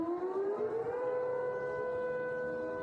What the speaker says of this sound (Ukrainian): А ось сирену повітряної тривоги вімкнули вже після прильоту.